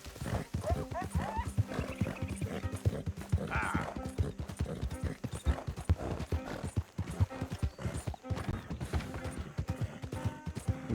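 A horse in Red Dead Redemption 2 gallops with rapid, steady clip-clop hoofbeats throughout, and a whinny breaks in partway through over the game's other sounds.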